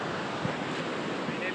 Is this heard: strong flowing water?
yes